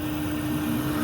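A hydraulic crane raising on a 2008 Ford F550 mechanics truck, a steady droning hydraulic whine over a low engine rumble, continuous and fairly close.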